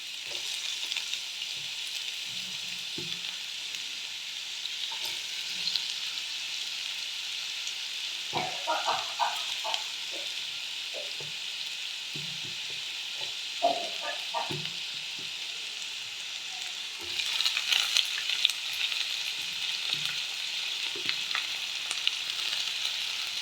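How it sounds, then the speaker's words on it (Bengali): Vegetables and potatoes fry in a pan for chire pulao, a steady close sizzle with scattered crackles and occasional spoon scrapes and stirs, no talk. "এগুলো ভালো করে আমি ভেজে নেব"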